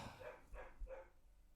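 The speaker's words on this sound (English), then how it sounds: "And your dog's going nuts in the background." A dog barks three times in quick succession somewhere in the background, each bark muffled and moderately faint, with no talking over it.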